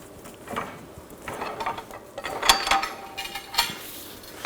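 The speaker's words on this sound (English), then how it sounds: "I'm going to lower the pole jack" Hydraulic pole jack being let down beneath a 2000-2006 BMW X5 during front lower ball joint work, giving a string of light metallic clicks and clanks that come in irregular bursts, close by and moderately loud.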